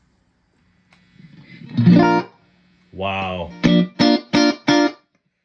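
An electric guitar played through a 1960s Fender Tremolux amplifier in a room: a ringing chord, then a bending phrase and four short, punchy chords, close and clean. A voice briefly exclaims.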